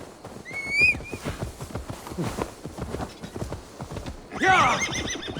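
Horse hooves clip-clop steadily in Assassin's Creed Valhalla, framed by loud whinnies near the start and again near the end, both close and prominent.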